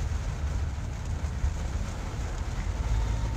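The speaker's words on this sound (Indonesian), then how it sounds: "Hujan." Rain falls steadily on a road trip near Balaraja, Indonesia, a continuous hissing patter over a deep, constant rumble like a vehicle on the move. No voices are heard.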